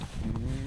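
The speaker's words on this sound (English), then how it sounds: "Cows, maybe." A cow lets out a brief low moo outdoors, close and fairly clear, lasting under a second with no talk over it.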